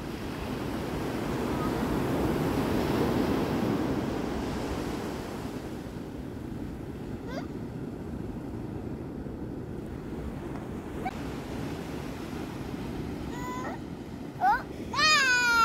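Broad, steady surf washing at a beach, loudest at the start and easing into a softer continuous wash, with a few brief high bird-like chirps near the end.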